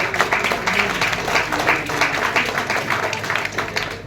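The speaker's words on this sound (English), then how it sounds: "A lot of applause to all of" Students applauding at a national mediation moot court competition: steady, dense clapping from a sizeable crowd, loud and sustained throughout.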